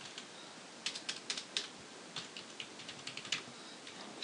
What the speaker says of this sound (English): I'm just going to go ahead and enter the username, password, and the information that they had given me here